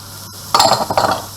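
Celery and carrots tipped into a pan of heated oil, giving a brief clattering clink of utensil against pan followed by a few short rustling, scraping bursts close by.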